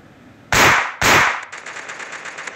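Two loud, close shotgun blasts about half a second apart in a mobile shooting game, followed by rapid fainter rattling shots.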